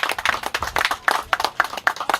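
Audience applause, a small group clapping close by in an uneven rhythm of distinct claps, short and moderately loud.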